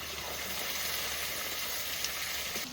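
Bay leaf, whole cumin, cinnamon, cardamom, cloves and onion frying in hot oil for a meat curry, giving a steady, close, dense sizzle that hisses evenly throughout without talk.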